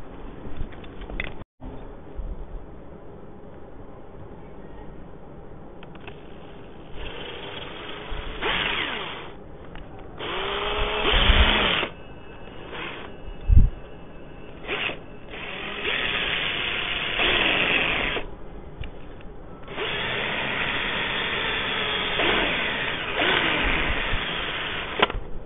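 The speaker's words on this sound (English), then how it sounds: "I'll get a drill." An electric drill bores a hanging hole through a turned jarrah Christmas decoration, whirring in several bursts of varying length, some loud and close, with brief pauses between runs.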